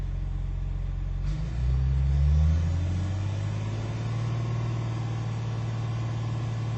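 John Deere Hitachi 750J dozer engine changing RPM: a low idle rumble suddenly climbs as the revs rise, swells briefly, then settles into a steadier higher drone, close and with no talking.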